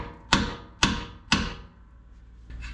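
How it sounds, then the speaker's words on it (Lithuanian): Three sharp, loud hammer blows at an even pace, driving a bolt out of the front air suspension on a Range Rover L322, with a fainter knock at the end and no talk. "Užsuku veržlę atgal, kad būtų galima lengviau iškalti varžtą"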